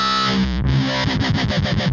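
A gritty, distorted Korg Modwave synthesizer patch plays loud and close, a thick swirling tone that turns into a rapid pulsing rhythm in its second half.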